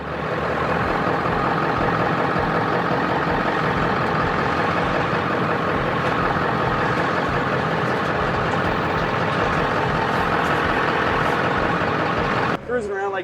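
The V8 engine of a 1972 Ford F100 pickup runs with a steady, full rumble close by, holding an even level for the whole stretch before cutting off sharply near the end. A person talks over it.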